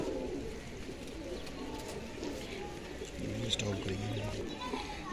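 Teddy breed pigeons coo in low, repeated murmurs among a loft flock, with rustling and other bird calls around them; the deep cooing turns clearer toward the end.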